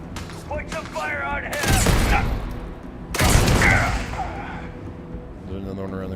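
Heavy bursts of gunfire in the Starfield game boom out in two loud volleys amid game sounds, with a voice speaking between and around the shots.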